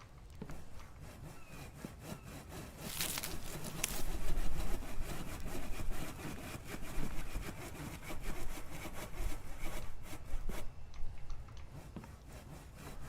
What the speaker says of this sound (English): Nice thing is the dev made those plank saws.